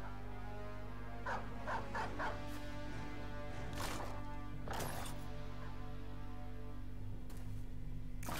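Several dogs bark and yip in short bursts over a steady low droning game background in Battle Brothers, barks scattered across the stretch at moderate distance.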